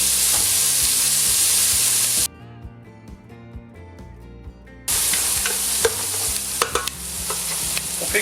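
Carrots and other vegetables sizzle and fry as they are grilled in a pan for a rustic braised pork shank dish. A steady loud hiss drops away briefly in the middle while music carries on, then the sizzling returns with stirring clatter.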